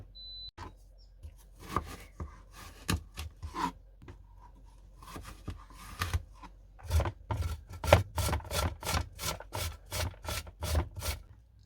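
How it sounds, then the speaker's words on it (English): Apples are grated by hand in a kitchen, with rhythmic rasping strokes that start sparse and become a fast, regular run of close scrapes. "we're going to start by grating up the apples"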